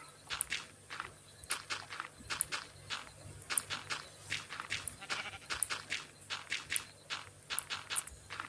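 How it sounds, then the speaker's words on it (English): Sheep in Minecraft bleat again and again in short, evenly spaced calls, mixed with soft stepping sounds, fairly close and with no speech. "Sheep."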